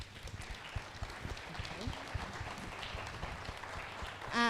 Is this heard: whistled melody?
no